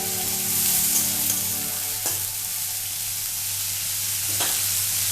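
Onion and jackfruit seeds frying in a pan give a steady, close sizzle with faint stirring clicks and a couple of brief scraping ticks, with no talking.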